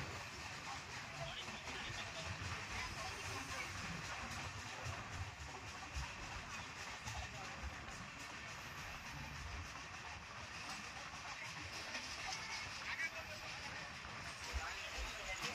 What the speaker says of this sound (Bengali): আমাদের ট্রেন এখন দক্ষিণেশ্বর স্টেশনে ঢুকছে।